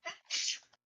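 A single quick human sneeze, a sharp breathy intake followed by a hissing burst, close and brief.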